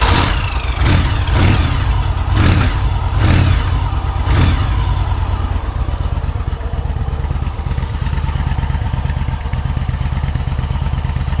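A cold Yamaha Virago motorcycle engine, with a gutted and baffled exhaust, revs in several sharp bursts, then settles into a steady, loud idle with a deep exhaust rumble.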